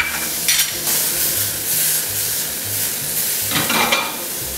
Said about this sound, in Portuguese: Adicionar agora tomate sem pele em cubos pequenos.